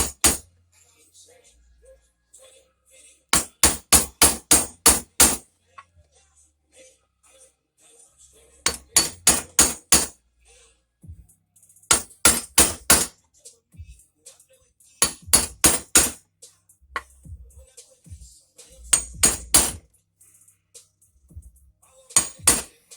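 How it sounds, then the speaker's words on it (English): Sharp metallic taps from a small dead blow mallet on a 2004 Acura TL valve cover, in quick bursts of five to seven, repeated several times with short pauses between, close by and crisp. "you got like a mallet, a dead blow, but small hammer like so, you just hammer it in there"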